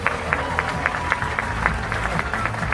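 Audience applause for the judges at the Miss Universe 2017 preliminary competition, a brief burst of clapping from a crowd with a few sharper individual claps standing out, a voice speaking over it.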